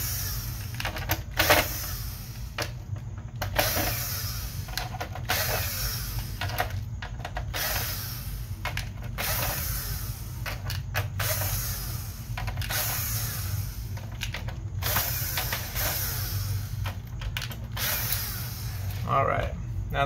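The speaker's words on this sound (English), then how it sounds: "We're going to go back to our T9 bit here and just unscrew all these screws." Screws are removed from a PS4 with a T9 bit, giving faint repeated ratcheting clicks and scraping at irregular intervals over a low steady hum, close and quiet.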